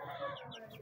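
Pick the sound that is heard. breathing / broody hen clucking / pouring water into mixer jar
broody hen clucking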